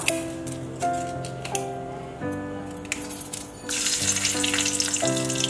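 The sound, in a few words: bay leaf and spices frying in ghee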